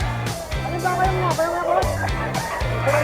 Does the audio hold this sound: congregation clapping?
no